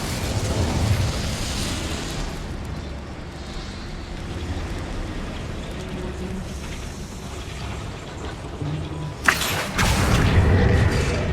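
A fire spell cast in the Hogwarts Legacy video game, a dense roaring burst of flame with heavy low rumble that runs steadily, then flares into a louder whooshing blast near the end.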